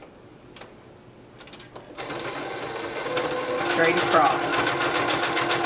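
Sewing machine stitching a fabric face mask, starting after a quiet moment and then running as a fast, close, steady mechanical whir and ticking while a person talks over it.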